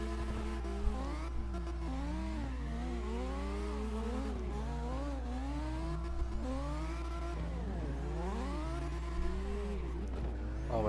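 An RX-7 drifting in CarX Drift Racing, its engine revving and swooping up and down in pitch over a steady low drone, loud and continuous with no speech.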